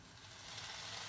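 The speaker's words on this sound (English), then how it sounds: "Did you hear that sizzle?" Peppers, onions and mushrooms sizzling in a hot non-stick pan with no oil, a steady hissing crackle heard up close but fairly quiet, brief and without voices.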